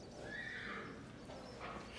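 A competition horse arriving from France whinnies once, loud and near, with a faint clip-clop of hooves beneath and no talk.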